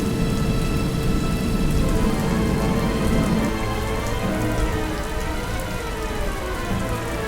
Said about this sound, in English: the storm raged and raged. It was rampaging non-stop.